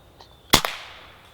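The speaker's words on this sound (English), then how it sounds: "so I decided to shoot it where it was." An air rifle fires at a squirrel perched in a tree: one sharp, close crack with a quick second snap just after, then a short fading tail in otherwise quiet surroundings.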